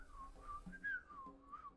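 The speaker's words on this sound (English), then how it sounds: "Goblin approaches, whistling a happy tune." A goblin character in a video game whistles a cheerful, happy tune, a clear melodic whistle rising and falling across a few short phrases, fairly quiet and alone with no talk.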